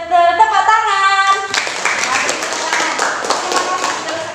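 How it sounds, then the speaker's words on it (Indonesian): Students in a classroom burst into a dense, steady round of hand clapping right after a voice speaks, the applause filling the rest of the moment at close range. "Tepuk tangan."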